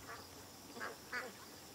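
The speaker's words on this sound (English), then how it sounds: "There's a bunch of ducks that are in the yard." Ducks in a yard give a few short, nasal quacks, two or three brief calls spaced apart, fairly faint against quiet background.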